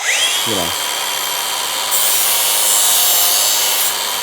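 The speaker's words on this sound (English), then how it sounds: "I usually like to just use a angle grinder and just put a flap disc on it" An angle grinder fitted with a flap disc smooths a metal bracket for a spare tire carrier: a loud, continuous high-pitched whine with gritty abrasive rasp fills the whole stretch, close and unbroken.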